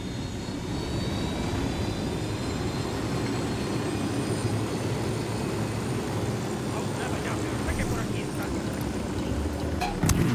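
An aircraft engine drones steadily while being piloted in Ghost Recon, a loud continuous roar with a low rumble that holds throughout, with a few faint clicks near the end.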